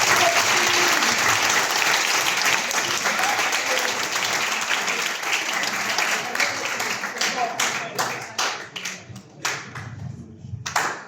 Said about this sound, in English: if we can please have a round of applause for Cody Skate.